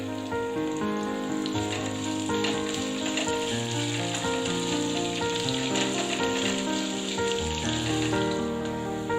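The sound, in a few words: onions and green chillies sautéing in pan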